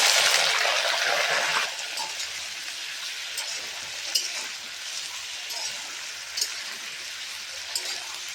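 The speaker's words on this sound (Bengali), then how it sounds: "একসাথে বেগুনও ভাজা হয়ে যাবে, আলুও ভাজা হবে" Eggplant and potato pieces fry in a pan with a pinch of cumin for a Bengali fish curry. A loud hiss softens after a couple of seconds into a gentle, steady crackle with occasional soft pops.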